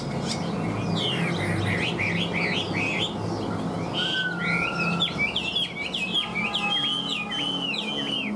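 A Chinese hwamei songbird sings close by, with repeated bright whistled phrases, slurred notes and a long clear held whistle, over a low steady background hum.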